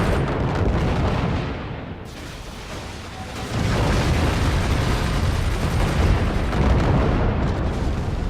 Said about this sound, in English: And so here we go, firing all the missiles.